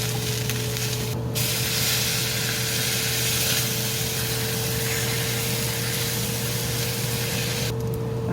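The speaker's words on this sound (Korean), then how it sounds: "다진 마늘을 볶다가 치킨 살코기를 넣고 볶아줍니다." Minced garlic and chicken meat stir-fried in a pan give a steady, close sizzle with light scraping of a utensil, running continuously without talk.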